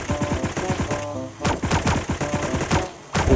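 Rapid automatic gunfire in the Sausage Man shooting game, bursts of quick repeated shots with a short pause before firing resumes, loud and close.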